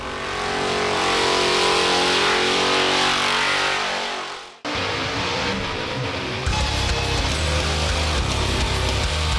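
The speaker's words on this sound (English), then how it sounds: "keeping the car off the wall and keeping the revs up there and just banging tyres" A car does a burnout at a Summernats burnout competition, its engine roaring at sustained high revs while the rear tyres spin and scream against the pad, loud and continuous, with a brief cut midway.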